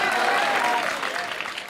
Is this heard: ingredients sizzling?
no